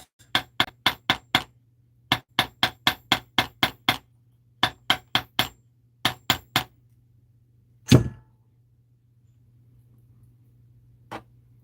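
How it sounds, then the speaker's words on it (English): Sharp metallic hammer strikes on copper wire in quick bursts of four to six blows with short pauses, close and crisp, followed by a single heavier thud and one faint tap. "I like to bang both sides or hammer both sides."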